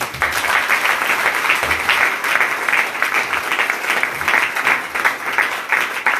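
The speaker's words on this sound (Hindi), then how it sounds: "जोरदार ताली बजाओ एक बार" Steady, dense applause from a large church congregation, loud and continuous throughout, with no break in the clapping.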